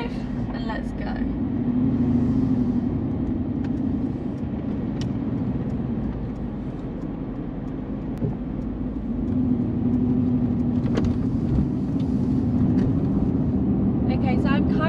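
A Mercedes-AMG GTR pulls away in drive, its engine a steady, moderate hum with road rumble running throughout, heard from inside the car and fairly constant in level.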